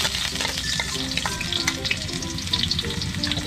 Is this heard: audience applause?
no